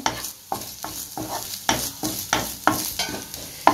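Grated coconut sautéing in ghee in a pan, with a spoon scraping through it in regular strokes about every half second over a soft continuous sizzle, close and clear with no talking.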